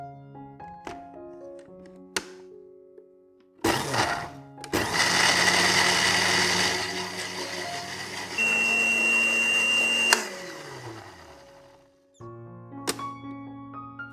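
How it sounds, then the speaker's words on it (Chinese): A countertop blender whirs sour cream with apple cider vinegar and salt, switching on loud and steady for several seconds with a pitch shift partway, between quieter clicks and clatter before and after. "苹果醋和适量的盐，盖上盖子，搅打至顺滑的状态"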